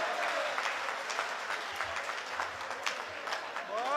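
An audience applauds together, a dense, fairly quiet patter of clapping that runs throughout, with crowd murmur underneath.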